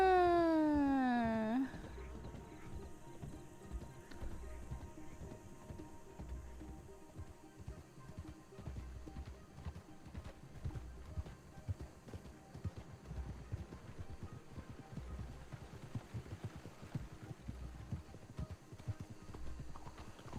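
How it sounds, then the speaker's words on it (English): Horses' hooves clip-clop steadily in the RedM western roleplay game, a soft repeating patter that runs under a faint background, with a brief louder tonal sweep at the very start. "Look at all the horses."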